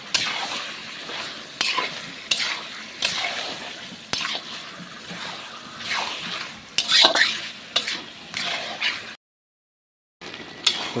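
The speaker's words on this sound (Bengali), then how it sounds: "তো বন্ধুরা আমাদের মাংস কষানো চলছে এখন।" Meat and tomato are stir-fried in a pot at an outdoor picnic cookout, with rhythmic scraping strokes of a spatula over a crackling sizzle and a short silent gap near the end.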